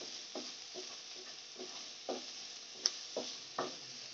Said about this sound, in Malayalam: ഇനി ഇത് നമുക്ക് നന്നായിട്ട് ഫ്രൈ ചെയ്തെടുക്കുക